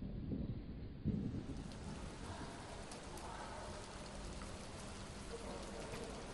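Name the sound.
heavy rain with thunder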